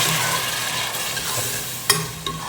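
Ginger garlic paste frying in a pan, a steady soft sizzle with occasional stirring scrapes and a sharp clink near the end, heard alone at moderate level.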